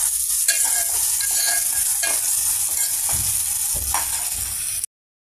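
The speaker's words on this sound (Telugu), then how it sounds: "ఆయిల్లో పెద్ద ఉల్లిపాయ పీసెస్, పచ్చిమిర్చి ఫ్రై అవుతున్నాయండి" Large onion pieces and green chillies sizzle loudly in hot oil in a pan. A continuous frying hiss is broken by several soft scrapes and thuds of stirring, and it stops abruptly at the end.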